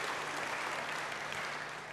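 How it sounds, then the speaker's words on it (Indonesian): Congregation applause during a church service, a steady, dense roar of clapping from many hands, fairly distant and uniform throughout. "Beri tepuk tangan bagi dia."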